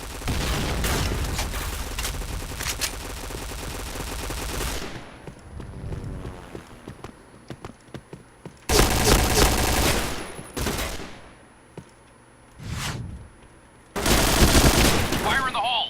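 Rapid bursts of video game gunfire crackle in a dense barrage, then pause before more sharp volleys and booming shots erupt in loud clusters.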